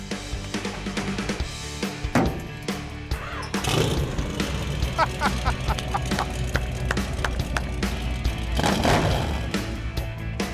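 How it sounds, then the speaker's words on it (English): A deep, throaty truck engine with glass pack mufflers rumbles and revs close by, with sharp crackling bursts as the throttle is blipped repeatedly. "Those are glass packs, baby!"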